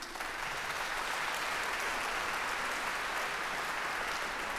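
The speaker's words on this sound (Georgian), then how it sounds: "იმედია რომ თქვენს ამ აპლოდისმენტებს გავამართლებთ" An audience applauds a Tbilisi women's choir, a dense, steady wash of clapping from many hands that sustains evenly for several seconds, with no voices over it.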